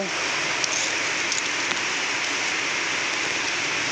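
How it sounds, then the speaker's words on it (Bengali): Steady hiss of rain falling close by, constant and even for the whole stretch, with a few faint taps on top. "তো দেখে নাও বৃষ্টি পড়িতেছে"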